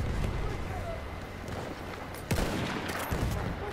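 Dense gunfire and explosions fill a Battlefield 1 battle, a constant loud rumble of weapons with a sharper shot burst near the middle and voices under the noise.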